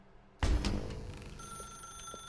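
Telephone ringing in The Stanley Parable video game, a single sudden loud ring bursting in after near silence and then lingering with a bright trailing tone.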